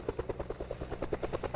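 Helicopter in flight through mountains carrying fish slung and swaying beneath it, a steady rapid thudding of rotor blades at an even beat, fairly distant and moderately loud.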